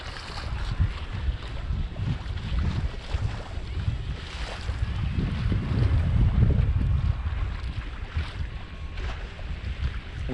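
Steady wind rushes across a sailboat under sail, with a continuous broad roar and water washing against the hull, swelling slightly midway and carrying on without voices.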